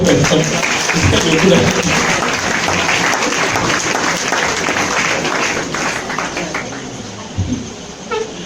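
A church congregation breaks into sustained applause, a dense loud wash of clapping that fades toward the end, with voices mixed in.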